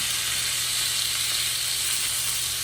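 Steady, close sizzling of food frying in butter in a pan, a constant crackling hiss with no voices.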